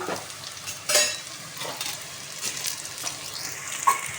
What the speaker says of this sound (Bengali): হাই ফ্লেমে একদম ডিপ করে ভেজে নেব।